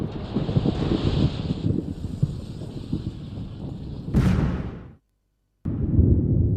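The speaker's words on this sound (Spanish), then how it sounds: "El viento estrelló el puente contra el río" Heavy wind gusting and buffeting around the Tacoma Narrows suspension bridge, a loud rumbling roar with clanking structure, a sharp burst of noise near the end, a brief dead gap, then roaring again.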